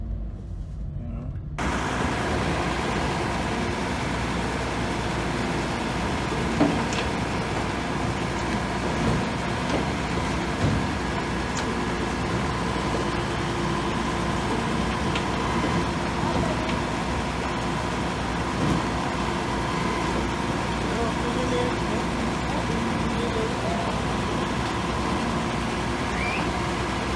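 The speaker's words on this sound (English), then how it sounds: "I've never seen a garbage truck where the whole body moves." A garbage truck drives along a street in Gugulethu, Cape Town, giving a continuous low engine rumble that stays fairly faint and even throughout, with no clear voices over it.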